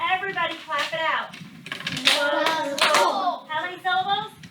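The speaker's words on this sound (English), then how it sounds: "Everybody clap it out." Children in a phonics lesson clap out word syllables in a classroom, sharp hand claps mixed with young voices chanting and speaking throughout.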